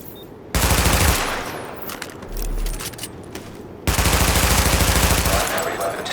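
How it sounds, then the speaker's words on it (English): Sustained automatic weapon fire at highlighted targets during a weapon test in The Division, two long loud bursts separated by a short pause, with rapid repeated shots. "Open fire at the highlighted targets."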